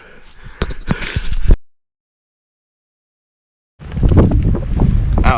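Strong wind gusts buffet the microphone outdoors at a quarry, roaring loud and close, with a sudden cut to silence before the wind returns.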